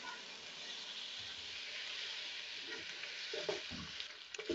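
Spices and mutton frying in a karahi, a soft, fairly quiet sizzle throughout with a few stirring scrapes near the end.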